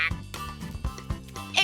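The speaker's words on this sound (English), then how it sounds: "Why's your phone quacking?" A cartoon phone ringtone of a duck quacking, several short nasal quack-like calls in quick succession, fairly clear and close, with a little voice-like texture mixed in.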